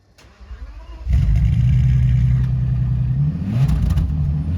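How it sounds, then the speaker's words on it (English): A car engine fires up with a loud, unsubtle exhaust note and settles into a steady, rumbling idle, with a brief rev near the end; only faint rustling precedes the startup. "I was surprised at actually how loud the exhaust note was on startup."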